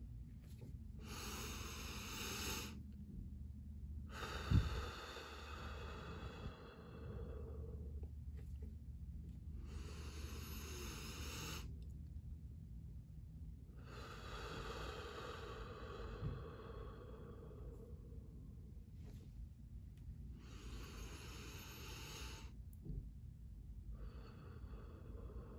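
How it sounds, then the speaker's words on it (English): Three big, slow deep breaths taken as a breathing exercise for stress, each a long airy rush of inhale and exhale separated by brief silent pauses, close and fairly loud with no talking. "take three big breaths with the person I'm talking to"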